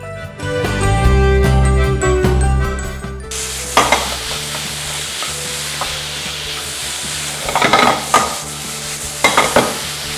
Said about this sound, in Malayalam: നമ്മൾ മുന്നേ ചോപ്പ് ചെയ്ത് വെച്ചിരിക്കുന്ന ബീഫ് നമുക്ക് മസാലയിലേക്ക് ചേർത്ത് കൊടുക്കാം. നമുക്ക് നന്നായിട്ടൊന്ന് മിക്സ് ചെയ്യാം.